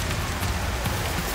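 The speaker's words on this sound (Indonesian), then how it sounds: "Tapi ini hujan." Rain falls steadily in a deserted village, a dense, even hiss of drops with no pauses over the brief stretch.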